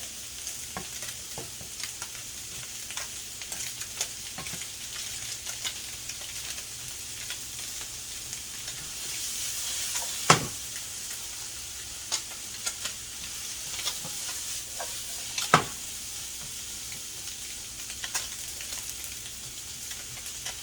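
Orange roughy fillets and asparagus stir-fry in a pan with Kikkoman soy sauce, giving a continuous, even sizzle. Occasional sharper pops and crackles break through the crackling hiss.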